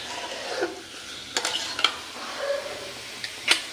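Food browns in a little oil in a pan, giving a low steady sizzle broken by a few brief clicks and scrapes of a spoon, close by and without talk.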